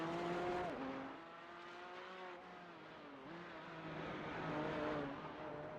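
A Porsche race car in the Gran Turismo 4 racing game drones steadily at high revs, its engine pitch dipping and climbing through gear changes with faint tyre squeal, loud and continuous throughout.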